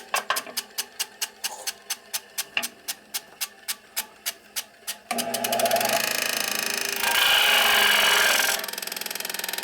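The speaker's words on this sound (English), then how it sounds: "I also want to grind more on this inside than on the outside." Harley shovelhead engine part being ground during a 1983 FLTC motor rebuild, with a run of about twenty evenly spaced sharp taps, then a steady high-pitched grinding whine that swells louder and continues to the end.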